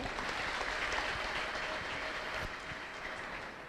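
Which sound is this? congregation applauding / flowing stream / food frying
congregation applauding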